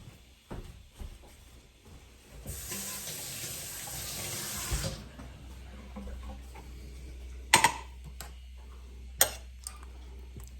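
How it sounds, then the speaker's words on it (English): A hand is rinsed under a running kitchen tap while making venison spaghetti sauce. About two seconds of steady splashing water flow, then quiet with a few sharp clicks and ticks. "I need to rinse my hand again."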